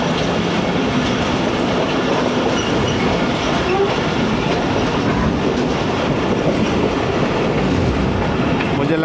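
A shuttle train, the 228DN, rolls toward Kot Addu Junction with a continuous loud rumble and clickety-clack of wheels on rails, heard steadily from aboard.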